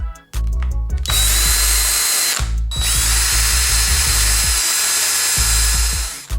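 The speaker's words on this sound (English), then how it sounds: "let's go ahead and drill a couple of holes and install this sensor on the inside of the fork guard." A power drill bores holes into a motorcycle fork guard on a 2019 Yamaha YZ450FX in two loud, close whining bursts, each spinning up and winding down, with brief pauses and handling clicks between.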